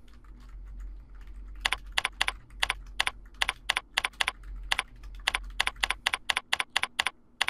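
Steady keystrokes on a computer keyboard, a rapid run of sharp clicks in bursts with short pauses, close and clear over a low constant hum.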